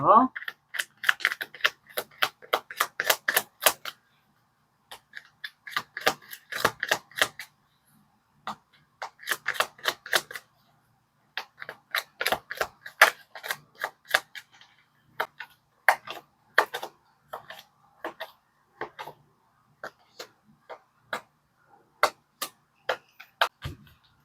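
Oracle cards are shuffled and laid out for a tarot reading, making repeated bursts of rapid, papery flicking clicks separated by short pauses. The sound is close and alone, with no talk.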